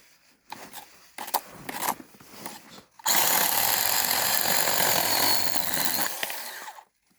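Cordless pruning shears cut through a branch, a few brief snips and rustles followed by a sustained loud buzzing motor-like whir lasting several seconds before stopping.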